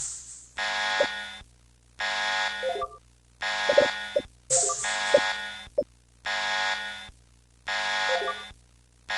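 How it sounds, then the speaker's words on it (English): A piercing electronic alarm in the video game Bionic Heart blares in regular on-off pulses, about five loud buzzing bursts separated by short gaps, with faint thuds and clatter mixed between them. "The piercing sound of the alarm is enough to break me free from my terror."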